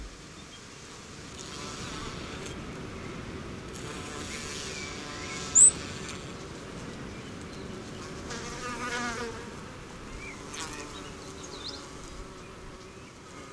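Buzzing insects such as bees, wasps and flies hum steadily around flowers in Australia, a soft continuous drone with a few passes drifting closer and louder, no voices.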